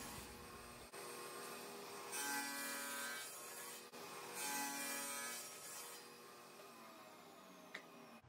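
A saw cutting a curve in a hardwood board for a cheese slicer, a steady rasping whine with two louder bursts of cutting between quieter running stretches, close and without speech.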